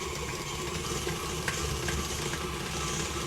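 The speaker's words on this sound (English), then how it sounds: "that's going to be mixed until it's light and fluffy" An electric mixer whirs steadily as it beats softened butter into batter for petit fours until light and fluffy, a constant close hum with faint scraping ticks.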